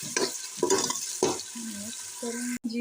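Chopped onions sizzle and fry in hot ghee inside a pressure cooker, stirred with a few scraping strokes over a steady crackling hiss, with no talking.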